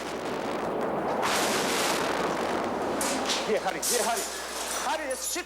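Distant gunfire exchanges and heavy booming tank shell blasts rumble through a street scene in wartime Sarajevo, with a voice talking over the noise.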